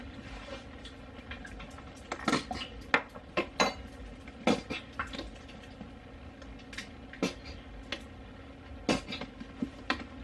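Clinks and clatters of a slow cooker lid and utensils in a kitchen, irregular sharp metallic and ceramic taps scattered close by, some clustered in quick pairs, with no talking.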